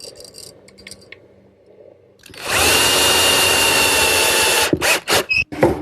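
A power drill drives screws into glued plywood pieces in a woodworking shop. After a quiet start, one loud, sustained whir runs for about two seconds, followed by a few short bursts as the screw seats.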